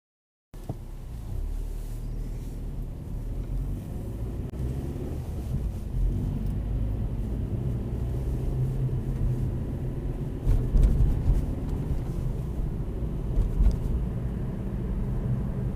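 Low, continuous engine rumble and road noise from inside a car pulling away and driving on during a driving test in Northampton, steady throughout with a few faint bumps and no talking.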